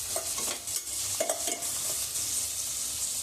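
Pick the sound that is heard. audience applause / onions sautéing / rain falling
onions sautéing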